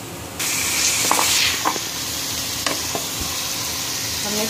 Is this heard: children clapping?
no